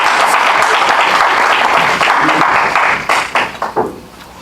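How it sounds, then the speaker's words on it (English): Audience at a poetry meeting applauding the original speakers: a dense wash of many hands clapping, loud and steady, then thinning into a few scattered claps as it fades near the end. "Let's give another round of applause for those original speakers"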